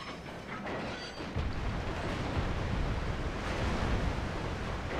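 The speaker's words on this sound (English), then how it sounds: "we managed to stop the train just in time" A train in the Red Dead Redemption video game comes to a stop, heard as a loud, dense roar and rumble that swells after the first second and then stays heavy and unbroken, without talk.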